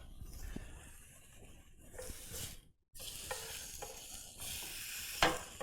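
A burger steak sizzles and hisses in a hot frying pan, a quiet steady crackle broken by brief stirring and scraping sounds, with a short gap in the middle.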